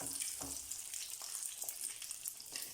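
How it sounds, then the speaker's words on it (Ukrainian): Pork chops fry in a pan under a lid, a soft, quiet crackle and sizzle with faint scattered pops and no speech. "Жаримо з обох сторін до готовності."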